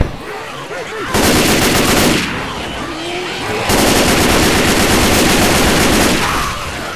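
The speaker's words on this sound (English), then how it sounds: "Except it's not three round burst. Looks like an M16." Rapid automatic M16 rifle fire in the Left 4 Dead 2 video game rattles out in two long, loud bursts separated by a short lull, each a dense stream of shots close up.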